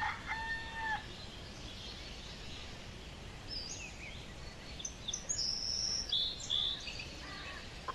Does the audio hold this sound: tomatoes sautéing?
no